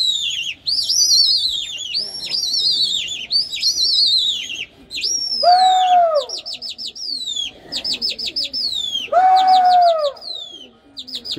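Hyderabadi racing pigeons call in a busy mix of bright chirps and whistled tweets, with a couple of lower, drawn-out cooing calls breaking through, close and fairly loud with no talking.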